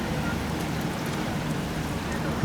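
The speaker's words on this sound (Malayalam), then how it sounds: "നല്ല മഴ, അകത്തേക്ക് വെള്ളം അടിച്ച് കയറുകയാണ്." Heavy rain lashes a moving train and sprays water inside the carriage near the Sharavathi river at Honnavar, a steady, dense hiss that fills the scene with no voices.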